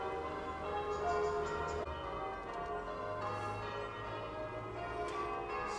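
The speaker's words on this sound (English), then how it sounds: "with the sound of the church bells" Church bells ring steadily with layered, sustained tones, heard from Heavitree churchyard in Exeter, Devon, moderately distant and continuous throughout, with no voices.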